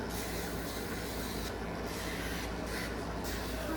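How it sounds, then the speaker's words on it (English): A steady, broadband air conditioner hum fills the space, even and continuous with no other sounds standing out. "Y'all can even hear me over the air conditioner"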